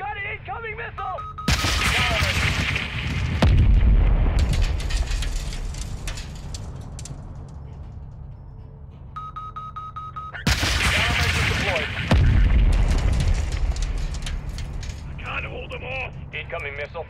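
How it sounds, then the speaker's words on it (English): Incoming missile and explosions in the Modern Warfare II campaign: two heavy blasts with long rumbling, crackling tails, separated by quieter stretches where radio voices and beeping tones come through. "We've got an incoming missile!"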